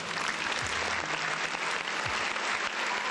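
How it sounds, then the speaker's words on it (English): Dense crowd applause sound effect, a continuous wash of many hands clapping at steady loudness from start to finish. "round of applause to everybody in the chat"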